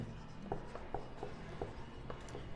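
A pen or pencil writing notes during a history lesson, a faint run of quick scratchy strokes and light taps in a steady uneven rhythm, close and soft with no speech.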